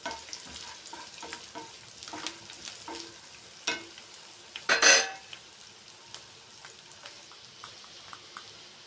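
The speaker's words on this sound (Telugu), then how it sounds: "నేను కొన్ని పల్లీలు ఇందులో వేసి వేయించుకుంటున్నానండి" Peanuts frying in a pan for a garlic-spiced okra dish crackle softly while a spoon stirs and scrapes, with sporadic clicks and one louder burst of sizzle midway.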